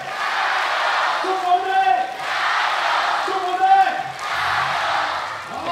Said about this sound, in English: the crowd showing some love, letting them hear it